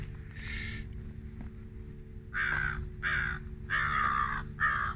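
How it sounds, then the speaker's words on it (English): A crow by a lake shore park in autumn gives a series of harsh caws, a single call then a run of four or so in quick succession, fairly close and loud over a steady low background hum, with no talk. "See what happens with the crow."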